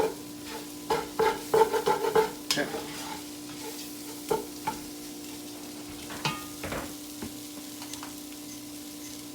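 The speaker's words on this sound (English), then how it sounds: "I like my Exoglass mixing spatula here." Jambalaya stirred in a pot with an Exoglass mixing spatula, giving a string of close scraping and clacking strokes, thick in the first few seconds and then sparser, over a faint steady cooking hiss.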